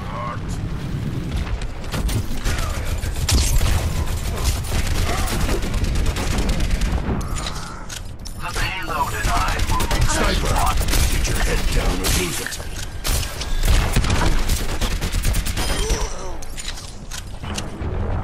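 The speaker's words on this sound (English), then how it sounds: "That was bad shooting." Gunfire and explosions in the Overwatch video game, with rapid shots and booms running continuously and loud throughout, someone talking over the battle.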